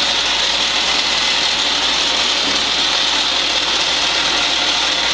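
Electric ice cream maker churning chocolate ice cream, giving a steady, loud whirring drone with a faint ratcheting texture that runs continuously without pause.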